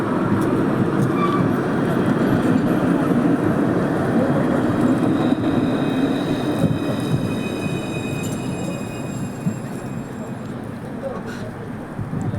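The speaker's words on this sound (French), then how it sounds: "là il y a l'autre tram, il part, donc il va en direction de la gare Montpellier, sud de France" A Montpellier tram pulls away from the Mosson terminus, a steady, loud rumble of wheels on rail with faint high squeals and whines, gradually fading slightly as it departs.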